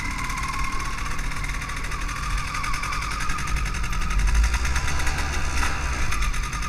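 MZ 250 motorcycle engine running for the first time, a steady rough idle with a knocking, vibrating texture that swells slightly toward the end, close and fairly loud, with no voices.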